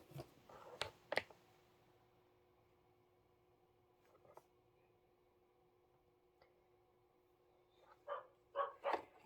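Dogs bark in short bursts, a couple of sharp barks near the start, a faint one midway, then a quick cluster of several barks at the end, with quiet background between.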